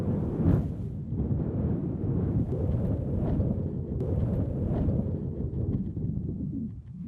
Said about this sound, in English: It's wind picking up the sand.